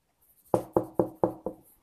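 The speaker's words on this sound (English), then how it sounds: "Knock, knock, knock. Anybody home?" Five sharp knocks land in quick, even succession, close and fairly loud, with nothing else sounding around them.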